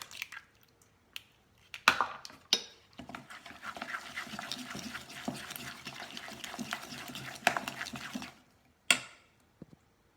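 Bulgur and quinoa being stirred together with an egg in a bowl: soft wet squishing and scraping strokes, repeated irregularly, with a few sharper knocks, close and quiet.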